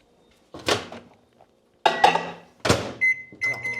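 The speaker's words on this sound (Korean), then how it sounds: "얘를 전자레인지에 8분에서 10분 정도 돌려주면 됩니다." A kitchen microwave oven being loaded with frozen precooked kabocha squash: a few close knocks and a door thump, then short electronic keypad beeps, with no talking.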